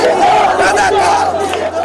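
A large crowd roaring and shouting together at a street celebration rally in front of a hotel, loud and close, continuous massed voices throughout.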